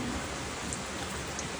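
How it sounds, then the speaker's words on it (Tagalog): Steady rain pours and splashes on hard surfaces and parked cars in Unaizah, Saudi Arabia, a dense hiss of drops falling close by with no voices. "tumitilansik yung ulan"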